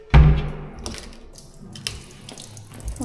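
Water gushes from a kitchen tap with a sudden low thump at the start, then runs and splashes softly into a sink with a few clicks.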